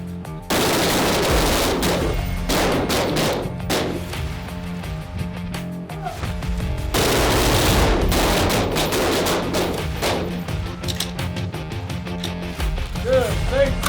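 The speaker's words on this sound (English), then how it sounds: "Single short burst to the body, single shot into the head." Gunfire on a police SWAT shooting drill, loud close bursts of rapid shots in clustered volleys separated by brief pauses, with voices between the strings of fire.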